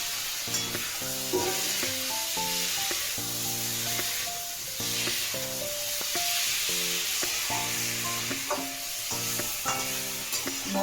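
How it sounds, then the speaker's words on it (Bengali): Fried cauliflower pieces go into a cooked-down spice paste that has released its oil, and a steady loud sizzle with stirring and scraping runs throughout under background music, with no talking. "এবার ভাজা ফুলকপিগুলো দিয়ে দেবো।"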